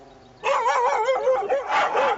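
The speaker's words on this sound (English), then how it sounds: "He doesn't bark for nothing." An Alsatian-type dog gives a burst of rapid, wavering barks and yips that starts suddenly and stays loud and close, with the calls running into one another.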